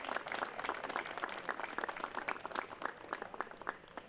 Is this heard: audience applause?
yes